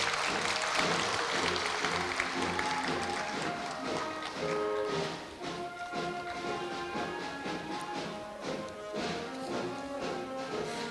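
Crowd at a university anniversary award ceremony claps in a thick, continuous ovation for an honoree, with background music sounding through the applause.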